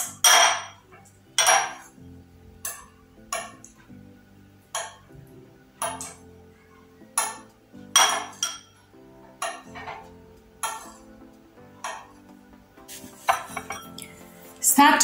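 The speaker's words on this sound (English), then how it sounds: "Now, use a bread knife to chop up your eggs." Hard-boiled eggs chopped with a bread knife in a small bowl, giving a series of sharp clinks and knocks against the bowl, spaced roughly every second, close and fairly loud with no talk.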